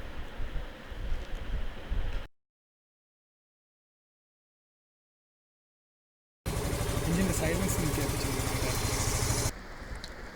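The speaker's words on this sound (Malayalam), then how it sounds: "അപ്പോൾ എൻജിൻ്റെ സൗണ്ട് കേട്ടാൽ നല്ല സൈലൻ്റായി" A motorcycle engine idling after an oil flush and oil and air filter change, a steady low engine hum that drops out for several seconds of silence before returning, close and even, then easing off at the end.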